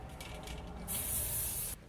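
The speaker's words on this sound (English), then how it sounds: "Tilt my head towards this side like this, and I'm going to spray it" Hard lock hairspray is sprayed onto styled waves of hair in one sustained hissing burst of about a second, close and clear over faint background rustling.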